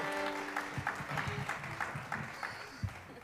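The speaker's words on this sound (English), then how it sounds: "Applause, please" Light, loose clapping from a small audience, fairly faint and uneven, with a few sharper individual claps standing out over a soft background hum.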